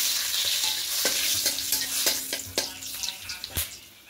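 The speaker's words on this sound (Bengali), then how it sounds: "এবার ঘিয়ের মধ্যে গোটা গরম মশলা ফোড়ন দেব" Whole garam masala and bay leaves sizzle in hot ghee, a steady close crackle with scattered sharp pops and light clicks of a spoon against the pan, no voices.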